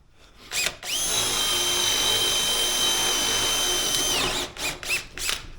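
A power drill bit spins up and bores into a sacrificial wooden block for a DIY wire spool reel, one sustained whining run of about three seconds with short revs before and after, loud and near, no talking.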